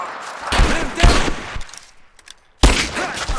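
Bursts of suppressing gunfire in Rise of the Tomb Raider, a combat firefight with loud broadband volleys at the start and again near the end, separated by a quieter gap.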